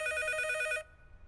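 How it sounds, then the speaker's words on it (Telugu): A telephone rings in a room with a bright, rapid trilling bell that runs steadily for under a second, then cuts off, leaving only faint low background hum. "ఈసారి ఫోన్ మోగుతుంది మన రూమ్ లోనే"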